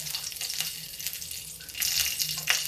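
Two green chillies, slit at the ends, crackle as they fry in hot oil. The steady close sizzle rises louder toward the end, and no one speaks.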